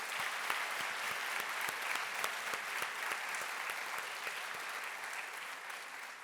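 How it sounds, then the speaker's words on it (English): An audience applauds at a Model United Nations conference opening ceremony, with steady, dense clapping from a large crowd that holds evenly throughout and has a few sharper individual claps standing out. "Can we please have another round of applause for Ms."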